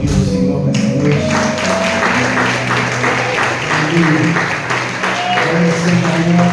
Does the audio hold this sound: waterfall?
no